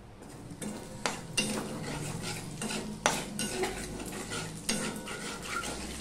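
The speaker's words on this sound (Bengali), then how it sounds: "এবার আমি এখানে কালো জিরে ফোড়ন দিয়ে দিলাম।" Nigella seeds (kalo jeere) tempering in hot oil in a pan sizzle steadily, with a handful of sharp scrapes and metallic knocks from a spatula striking the pan.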